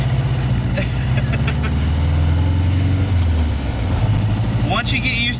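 Volkswagen Beetle engine running steadily while driving, with a low, continuous mid-range drone that dips and rises as gears are shifted; engine noise fills the whole stretch, with a brief sharper sound near the end.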